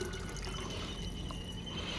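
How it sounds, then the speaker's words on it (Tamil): Water being poured into a large container to dilute a buttermilk pesticide mix, a brief close splashing trickle with liquid gurgling and dripping. "கிட்டத்தட்ட வந்து இது ஒரு 50 லிட்டர் அளவுக்கு நான் தண்ணி வந்து ஊற்றிட்டுருக்கேன்"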